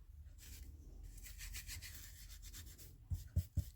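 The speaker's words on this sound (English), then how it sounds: "I'm going to take my brush and just burnish it in." A brush rubs and burnishes paper onto a craft Easter egg with soft, close scratchy strokes, then gives three sharper knocks near the end. There is no talking.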